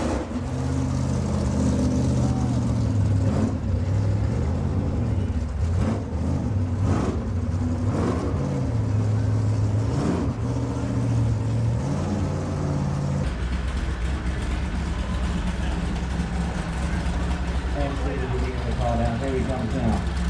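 Drag racing cars, including an old Ram Charger, launch off the line with loud, rising engine roars that sweep up and fade, while a commentator talks over the noise throughout.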